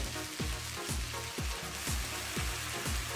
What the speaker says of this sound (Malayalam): ഇതിലേക്ക് ഇനി 2 തക്കാളി അരിഞ്ഞിട്ടുണ്ട്